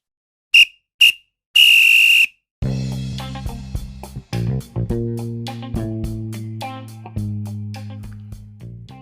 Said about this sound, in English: there goes the final whistle